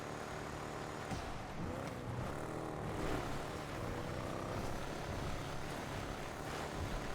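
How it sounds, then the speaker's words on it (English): A sports car engine in GTA Online growls and burbles steadily throughout while driving off-road, a continuous loud drone with shifting pitch and no talking over it. "Just listen to this engine."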